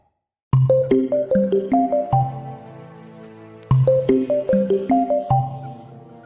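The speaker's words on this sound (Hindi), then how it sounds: "फोन की घंटी बजी" A bright, chiming ringtone melody plays a quick run of notes, pauses briefly, then repeats the same tune, loud and close with no talking.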